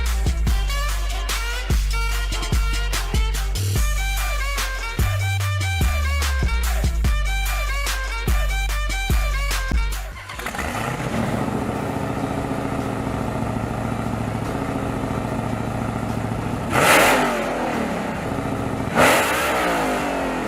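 A custom car nicknamed The Kraken, a show winner, has its engine cranked with rhythmic starter chugging for about ten seconds before it catches, then settles into a loud rough idle with two sharp revs near the end.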